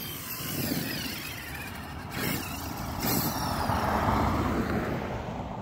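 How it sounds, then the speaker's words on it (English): A car passing by outdoors during an RC truck run, its engine and tire noise rising gradually and staying fairly steady, moderately loud over a broad wash of road rumble, with no talking. "Oh, car coming."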